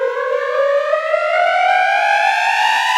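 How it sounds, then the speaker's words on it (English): Riser sound effect in a phonk track: a bright synth tone gliding steadily upward in pitch for about three seconds, loud and sustained, with layered overtones and no talking. "I'll take this riser sound effect,"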